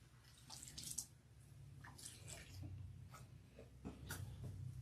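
Water poured over a young girl's long hair during a wash-day rinse, splashing and dripping in soft uneven bursts at close range.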